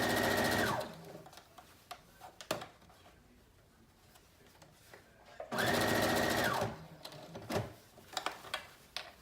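A sewing machine stitches around the sleeve opening of a Simplicity 8637 wrap dress in two loud, close bursts of rapid stitching, separated by a few seconds of quieter handling noise.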